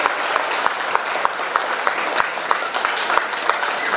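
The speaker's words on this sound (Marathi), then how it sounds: "सर्वांनी परत एकदा जोरदार टाळ्या वाजवून बंसीजींना वाढदिवसाच्या शुभेच्छा द्यायच्या आहेत." A crowd at a ceremony for a Thai Buddhist monk claps loudly for a birthday greeting, many hands together with a steady, roughly rhythmic beat running through the close, continuous applause.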